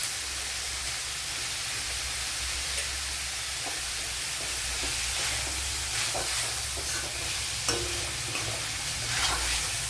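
Sliced onions with salt sizzle in a pan for a home-style chicken curry, a constant close frying hiss with scattered scraping stirs and small pops, no voices.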